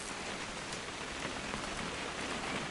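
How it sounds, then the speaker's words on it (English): Steady rain falling in the video game What Remains of Edith Finch, a dense, even hiss of drops on surfaces, loud and continuous with no voices over it. "It's gonna rain the whole weekend,"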